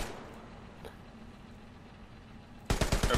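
A .50 cal machine gun on a Sherman tank in the Hell Let Loose video game fires a short, loud burst of rapid shots after a quiet stretch of low engine rumble.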